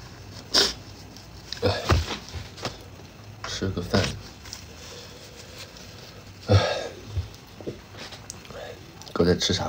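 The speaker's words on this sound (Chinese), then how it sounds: "哥在擤鼻涕呢。" A man blows his nose in several sharp, breathy bursts spread through the stretch, with people talking around the bursts.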